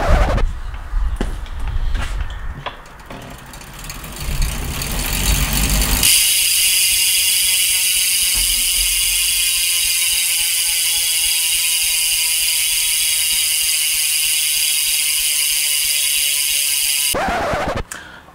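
Hunt 34 Aero Wide disc bicycle wheel freehub ratchet clicking steadily and loudly as the wheel spins freely, a dense buzzing whir held close for about eleven seconds after some handling noise.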